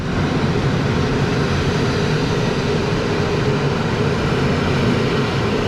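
A PKP Intercity passenger train in Poland runs along the line, heard as a steady, loud rumbling roar of wheels and car noise inside the carriage, continuous with no talking.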